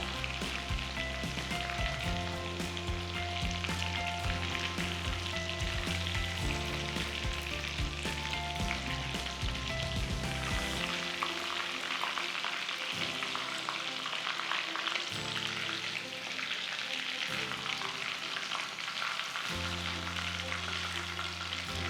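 Chicken pieces fry in hot oil for a long stretch, a dense, continuous sizzle and crackle with occasional stirring or shifting of pieces and no one speaking.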